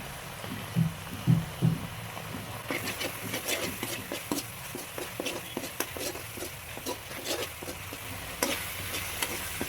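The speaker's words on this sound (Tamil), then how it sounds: "இஞ்சி பூண்டு பேஸ்ட் நல்லா வதங்கிடுச்சு" Ginger, garlic and shallot paste sautéing for rabbit pepper roast, a constant sizzle under quick, regular scraping strokes of a spoon in the pan, close and without talk.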